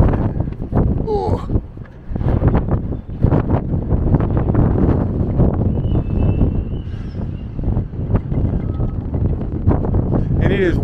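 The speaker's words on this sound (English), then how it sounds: "And it is windy, windy, windy." Strong wind buffets the microphone in continuous gusty rumbles on the stairs of St Charles Fortress, with a faint voice in the mix at times.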